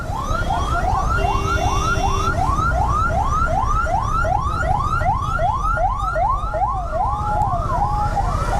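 An ambulance siren wails in a fast, repeating up-sweeping pattern, loud and close, over a constant rumble of traffic.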